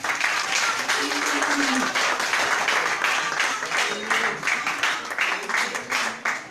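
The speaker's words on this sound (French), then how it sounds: "Applaudissez pour elle." Church audience applauding a woman giving testimony, a loud sustained roar of clapping from a large crowd, with voices speaking and calling out over it.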